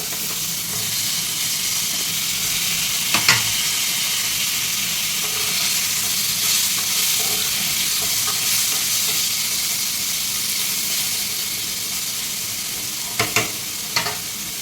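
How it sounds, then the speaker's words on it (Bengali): Potatoes frying lightly in oil for a Bengali magur fish curry with pui shak stems, a steady broadband sizzle running throughout with a couple of sharp clinks of utensil near the start and end, no voices. "এই তেলে দিয়ে দিলাম আলু আলুগুলোকে হালকাভাবে ভেজে নেব"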